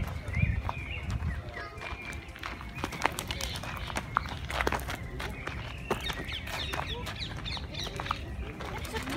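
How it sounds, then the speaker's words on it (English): A goat walks in a park, its hooves making a steady run of light, close taps on hard ground, while faint bird calls and other outdoor sounds carry on around it. "It's a goat."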